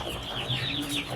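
Newly arrived chickens clucking nearby, a few short, faint calls rising over a quiet room background without speech.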